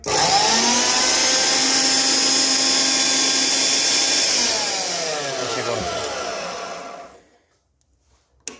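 A Starrett S1105 band saw is switched on with its trigger: a loud, steady motor whine runs near the mic for several seconds, then winds down in a falling tone and fades to silence.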